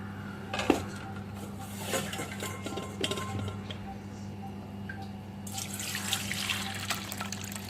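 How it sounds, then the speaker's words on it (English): Water drains from soaked flattened rice (poha) in a kitchen, a quiet trickle and splash with light clinks of a vessel and utensils, growing into a fuller pouring rush near the end. "Keep it for just 2 to 3 minutes and then drain the water completely."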